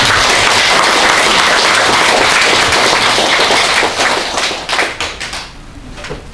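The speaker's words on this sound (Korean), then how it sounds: "회장님께 감사의 박수를 합니다." Dense applause from an audience at an association's annual general meeting in a Korean community hall, thanking the chairman; loud and steady, then thinning into scattered claps as it fades out at the end.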